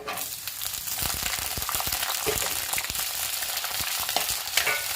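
Citron pieces sizzle steadily in hot oil, with a spoon stirring and scraping through the pan close by.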